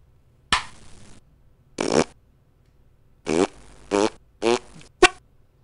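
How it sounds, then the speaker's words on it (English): Fart sound effects from the video game Panic, six separate loud, close bursts of varying length with short silences between them. "Most things in Panic do make a fart sound, though."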